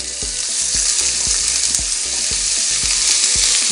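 Onions fry in hot oil over tempering spices as a filling for egg samosa. The sizzle is loud and continuous, with regular low knocks from stirring against the pan.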